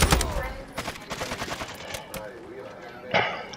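Rapid bursts of automatic gunfire from the video game Call of Duty: Modern Warfare II, with a dense volley at the start, scattered shots through the middle and a sharp burst near the end, mixed with a player's voice.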